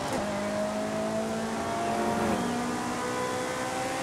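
Ferrari F430 Scuderia engine in the racing game Forza Horizon 5, a loud sustained high-revving tone that holds steady, dips and climbs slightly, heard alone without talk.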